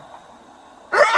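A single sharp sneeze bursts out suddenly after a quiet moment, close and fairly loud.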